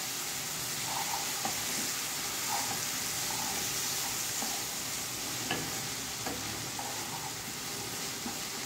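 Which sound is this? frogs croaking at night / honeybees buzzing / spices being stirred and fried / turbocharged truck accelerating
spices being stirred and fried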